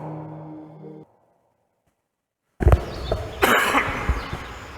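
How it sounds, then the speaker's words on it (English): A low humming tone fades into a stretch of silence, then a burst of loud, rough coughing close to the microphone. "Sorry for coughing, I'm not very well"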